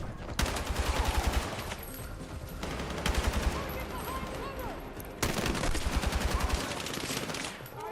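Gunfire in a shooter video game: repeated rapid bursts of automatic weapon fire, three distinct volleys of sharp crackling shots with rumbling echoes between, fairly loud, with players' voices talking in the background.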